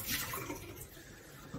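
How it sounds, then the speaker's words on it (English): Boiling water at 100 degrees gushing steadily from a Quooker tap, a rushing hiss that starts strong and eases slightly while continuing to flow. "so that's 100 degree boiling water."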